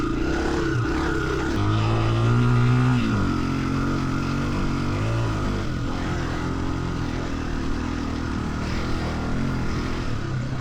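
A Honda CRF300F dirt bike grinds up a steep rocky hill in a low gear, its single-cylinder engine droning steadily and loudly for the whole stretch, with pitch swells as the throttle shifts.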